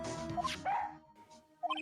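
A trainee police dog in the video game Phoenix Wright: Ace Attorney gives short, bright yips and barks in quick bursts, loud and close, with brief pauses between them.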